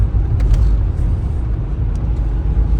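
A Volkswagen Bora 2.0 MPI automatic engine hums steadily at cruising speed in fourth gear around 2600 rpm, a low droning rumble from inside the moving car with no talk.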